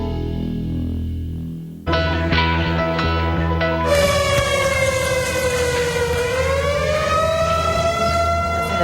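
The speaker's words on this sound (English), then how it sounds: "That tornado siren sounding after a reported tornado blew through Sulphur, Oklahoma last night." A tornado warning siren wails in Sulphur, Oklahoma after a reported tornado, a loud sustained tone that rises in pitch partway through and then holds, gradually shifting pitch, with no voices.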